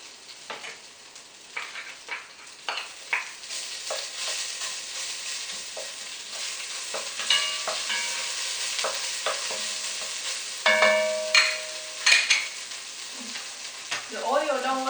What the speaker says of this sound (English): We sauteed the yellow curry base a little bit